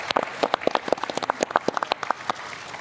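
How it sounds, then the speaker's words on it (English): A small audience at a Graph Day 2022 conference claps in sparse, uneven bursts, close and fairly loud, with no voices over it. "I think they deserve a round of applause."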